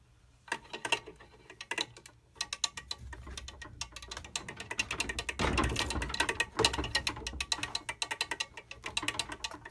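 A quarter-turn valve on a furnace sump pump drain being worked by hand, producing a sparse run of small plastic clicks and ratcheting ticks with a brief rough scraping burst in the middle, close and quiet.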